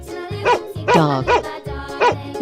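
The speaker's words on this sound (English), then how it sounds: "Dog." A dog barks in a quick series of sharp, close barks, about five in a row with short pauses between, loud and clear over a faint background.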